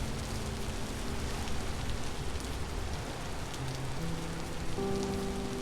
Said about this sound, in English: Isn't the rain just so much fun, y'all?